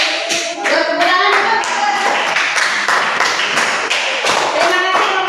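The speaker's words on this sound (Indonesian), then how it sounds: "Tepuk tangan." A classroom group claps in applause after a student presentation, a loud, dense run of many hands with sharp individual claps standing out, some voices mixed in underneath.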